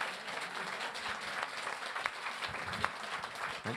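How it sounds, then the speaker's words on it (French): At a political party gathering, an audience claps steadily at moderate distance, a soft continuous patter with a few sharper individual claps. "Ne m'applaudissez pas trop"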